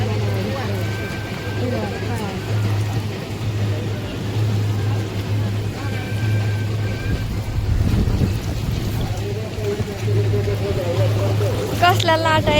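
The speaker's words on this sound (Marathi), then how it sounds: "कसल्या लाटा येतात पाण्यांच्या" Water waves wash in a steady, continuous surge across the whole stretch, with a constant low hum underneath and a slightly stronger swell near the middle.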